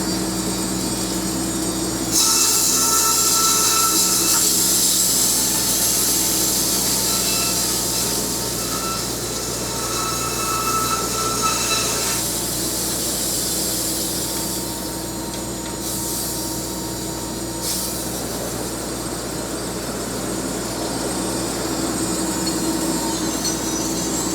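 A sawmill blade runs through a sweetgum log on a pattern cut, giving a loud, sustained mechanical whine and rumble with shifting pitch as the cut progresses, steady and close for the whole stretch.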